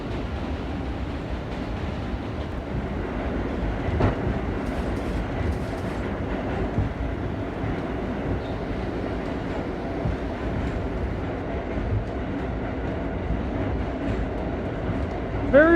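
An R32 F subway train in a video game, running from High Slopes to West Street. A steady loud rumbling roar of wheels and motors carries on without a break, with faint rhythmic clatter and a brief squeal near the end.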